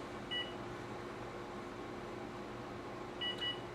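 Two short electronic beeps from a kitchen oven timer being set for pork chops, one near the start and another near the end, each brief and faint over a steady low hum.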